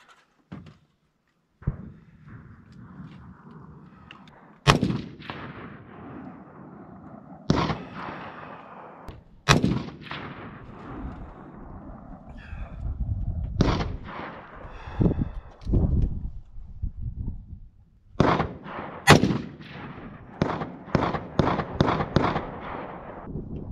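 Repeated gunshots at an outdoor shooting range, sharp loud reports spaced irregularly over the stretch, with a rapid burst of several shots near the end.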